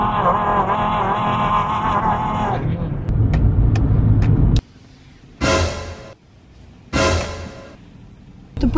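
A car driving past on a road at about 50 km/h, loud engine and tyre rumble close by for the first few seconds and then fading, followed by brief bursts of broadband noise as the traffic continues.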